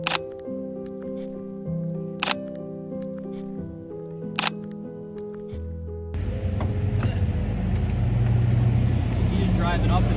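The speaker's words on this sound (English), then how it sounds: "He's just driving up and down. It's that GTO again." After a few sharp camera shutter clicks, a Pontiac GTO drives up and down the road nearby, its engine rumble swelling and staying loud to the end.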